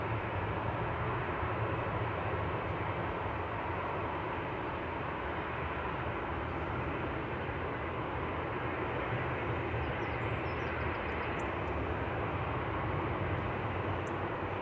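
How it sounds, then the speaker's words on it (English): A propeller aircraft comes in to land at Manchester Airport, its steady broadband engine drone holding at one level the whole time, fairly near and continuous with no voices. "That sounds like a prop landing or something."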